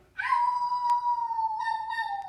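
A voice imitates a coyote howl, one long sustained rising-then-level wail that holds steady and tails off slightly, loud and close with nothing else over it.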